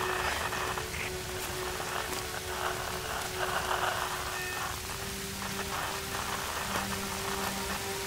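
Rain in the Tomb Raider: Definitive Edition game falls steadily, a dense hiss of drops spattering on surfaces with faint tonal hums underneath, continuous and without speech.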